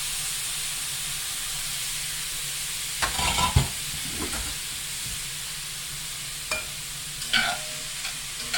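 Frozen riced cauliflower hits a hot pan with a quiet sizzle and hiss, followed by a few scraping stirs and clatters of a utensil, close and without talk.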